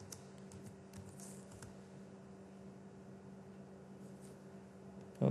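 Light, sparse tapping on a computer keyboard while typing code, a few quick soft clicks in short bursts over a faint steady hum in a quiet room.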